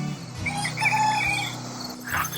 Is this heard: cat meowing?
no